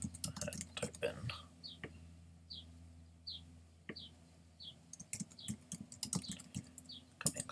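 Soft keystrokes tap on a computer keyboard in scattered short bursts, quiet and close, with a few louder clicks in between and faint chirping tones in the background.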